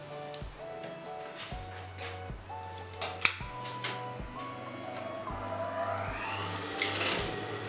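A sewing machine stitches a folded bias strip onto the neckline of a circular poncho in repeated bursts of motor whir with short pauses between runs, close and steady, with no talk.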